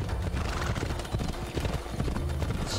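A galloping horse in Assassin's Creed Odyssey, its hoofbeats pounding in a rapid, close, loud rhythm with a brief neigh, over steady game ambience.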